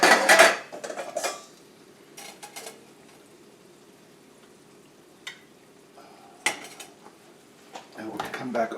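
A knife and plate are set down on a counter, with a few sharp clatters and clinks at the start and near the end, separated by quiet stretches.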